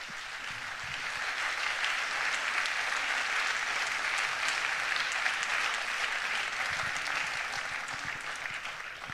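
An audience breaks into sustained, even applause after a remote talk, a dense wash of clapping that swells in and holds for about nine seconds.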